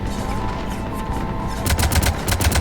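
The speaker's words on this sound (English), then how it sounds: "Cannons engaged" Cannons firing in the video game Mass Effect 3: a rapid burst of sharp, booming shots near the end, following a low steady rumble.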